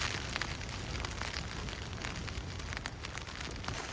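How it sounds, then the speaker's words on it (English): Steady rain falls during a motorcycle trip in New Zealand, a dense, continuous hiss with scattered drop taps, close and even throughout with no voices. "Now it's raining."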